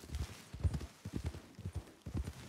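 Horse hooves clip-clopping in a western roleplay video game, a steady rhythmic trot of close, even hoofbeats sounding alone for a couple of seconds.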